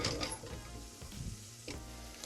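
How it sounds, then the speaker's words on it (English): Onions cooking in hot oil for a Persian celery stew, a soft steady sizzle with faint stirring scrapes, moderately quiet and without voices. "We're going to cook the onions in that hot oil until you get some golden browning on the edges."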